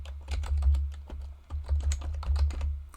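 Quick keystrokes on a computer keyboard as a name is entered into a website search box, a close, steady run of light clicks over a low hum.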